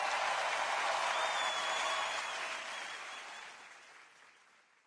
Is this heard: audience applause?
yes